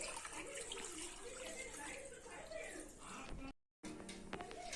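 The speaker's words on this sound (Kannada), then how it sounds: "ಈಗ ವಾಟರ್ ಹಾಕ್ತಾ ಇದೀನಿ ನೋಡಿ, ಮೋಟರ್ ಪಂಪ್ ಮಾಡಕ್ಕೆ." Water pours into a pot for a homemade tabletop fountain, a soft continuous splashing trickle with voices faintly under it. It stops briefly in a short silent gap, then the trickle returns.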